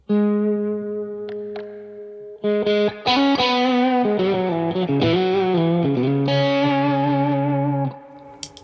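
An electric guitar plays a bold, warm lead line with a mid boost through a stereo pair of amps drenched in reverb: a sustained note, then a run of singing, distorted notes ringing out before fading.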